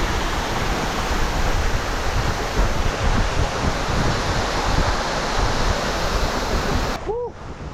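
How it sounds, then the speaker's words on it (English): Steady roaring waterfall on the Bolaven Plateau in Laos, a loud, constant rush of falling water heard up close, with a brief voice breaking in near the end. "We'll get right under the waterfall."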